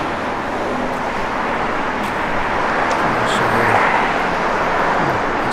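A 1959 Chevrolet Corvette with manual transmission drives off at an easy pace, its engine a steady low rumble mixed with broad road and wind noise, fairly loud and continuous throughout.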